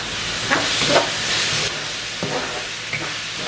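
Deviled fish fries in a pan with a loud continuous sizzle while a utensil stirs and scrapes through it in a few distinct strokes.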